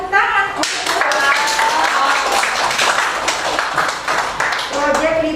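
Scattered clapping from a classroom group for a student's holiday scrapbook project, with voices talking over the brief, uneven applause.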